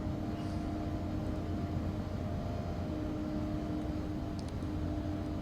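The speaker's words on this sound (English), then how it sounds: "Gear down, flaps full, thrust rating, takeoff." Simulated ERJ regional jet engines at takeoff thrust in X-Plane 12, a steady, even roar with a faint tonal whine, constant and moderate, without talk.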